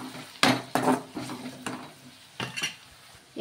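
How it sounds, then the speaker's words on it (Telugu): Curry leaves and onions stirred in a pan for an Andhra-style small bitter gourd fry: several distinct scraping and clinking strokes of a spoon against the metal pan, up close, with brief sizzling between them and no talk. "కొంచెం కరివేపాకు వేసుకొని కలిపేసుకుందాం"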